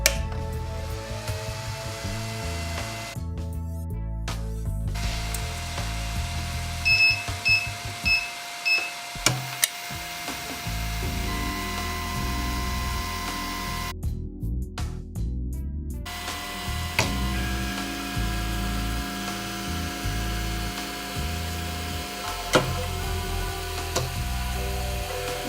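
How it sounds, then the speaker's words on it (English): A Cetus 3D printer starts up and runs a print, its stepper motors giving a steady stream of stepped, shifting whirring tones with short pauses between moves, heard close and alone without talk. "Let's get rid of my old print and start the printer"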